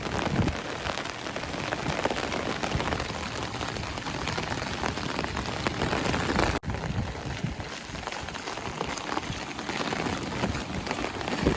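Heavy monsoon rain pours steadily and loudly over flooded farm fields in Sorath, Gujarat, a dense, continuous hiss of drops hitting surfaces with no pauses.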